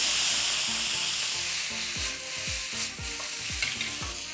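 Frozen peas and seafood sticks stir-fried and tossed in a hot wok, a steady bright sizzle broken by a run of rhythmic scraping, clattering tosses, fairly close with no voices.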